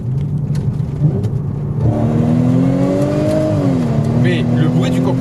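A stage 3 ethanol Audi S5 with an open-flap exhaust and a compressor accelerates at full throttle, the loud engine note rising steadily in pitch from a lower drone while people talk over it.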